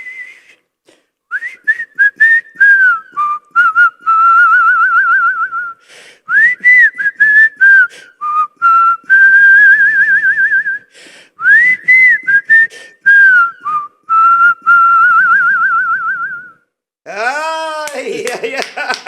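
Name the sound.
person whistling a song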